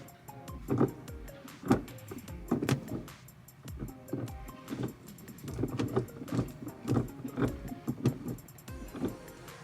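A VW MK7 GTI gear shifter with a newly installed shift boot is moved through the gears, giving a string of close, quiet clunks and clicks in an irregular rhythm with faint rustling between them.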